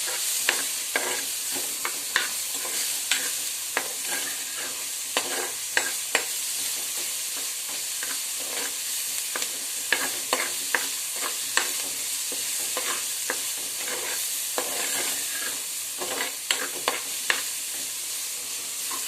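Sliced onion with salt sizzles steadily in a pan for carrot thoran, while a spoon scrapes and taps through it in frequent irregular strokes.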